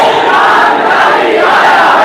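A large crowd at a Friday sermon gathering shouts a religious slogan in unison in response to the speaker, a loud, dense roar of massed voices lasting about two seconds.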